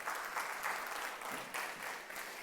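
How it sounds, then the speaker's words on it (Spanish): A Sunday church congregation applauds for the Lord, a soft, steady wash of many hands clapping at a distance, faint and even throughout. "dale un aplauso al Señor"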